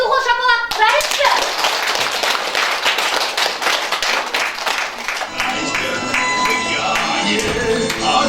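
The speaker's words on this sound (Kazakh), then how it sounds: "Кәне, дұғыл шапалақ, тұрайықшы." Children in a kindergarten group clap their hands loudly, a dense burst of fast, close applause running throughout, shifting to more scattered claps near the end with voices mixed in.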